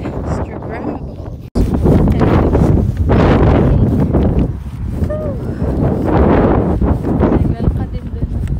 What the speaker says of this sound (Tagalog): So, ang ganda ng paligid. Grabe. Super hangin.